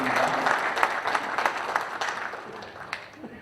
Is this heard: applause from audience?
yes